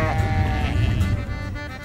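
Sheep bleat before a ferry trip to an islet, a loud, wavering cry close by that fades into a murky rumble of background noise.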